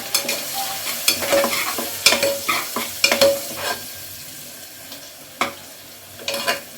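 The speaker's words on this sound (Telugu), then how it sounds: "కొంచెం కరివేపాకు వేస్తున్నా కొంచెం పసుపు వేస్తున్నా ఒకసారి కలుపుకోవాలి" Garlic, curry leaves and turmeric frying in a pan for a bottle gourd curry, stirred in repeated scraping strokes over a steady sizzle, with sharp utensil clinks punctuating the mixing.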